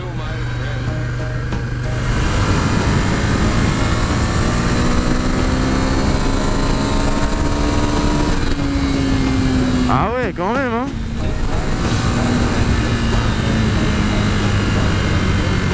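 A Ducati Scrambler motorcycle engine pulls steadily on a test ride, a loud continuous drone with slowly shifting pitch and wind noise throughout, as a rider talks briefly over it.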